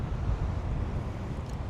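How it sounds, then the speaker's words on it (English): Wind gusts across an island beach, a steady low rumble of buffeting against the microphone throughout the short moment, with no other clear sounds. "yes, it's windy"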